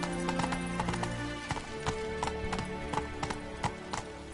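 Roach, a horse in the video game Witcher 3, gallops with a quick, steady run of hoof clip-clops over an even background, and no one speaks.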